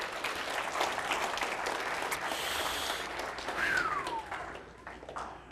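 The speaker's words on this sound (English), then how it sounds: "Everybody give Zach a big round of applause." A magic show audience applauds a volunteer on stage with steady, even clapping that fills the room for several seconds, swelling slightly midway and tapering near the end.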